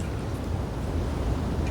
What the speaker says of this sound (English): What you're hearing is an ITC app.